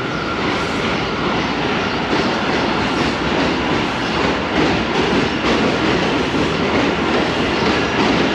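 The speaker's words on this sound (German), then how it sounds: "Und da fährt meine U-Bahn." A subway train passes through South Williamsburg, Brooklyn, a loud, steady roar with rattling wheels and rail noise filling the whole stretch without letting up; no talk.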